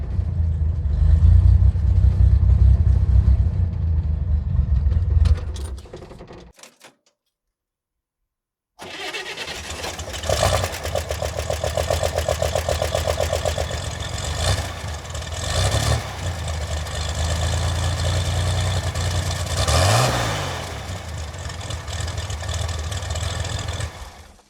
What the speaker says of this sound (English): It's a straight pipe from the turbo, and it has the most amazing sound.